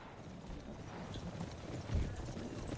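Dragoon cavalry hooves clip-clopping on the march in the Empire: Total War battlefield, a soft continuous patter of many horses at a distance with a faint whinny, under low battle ambience.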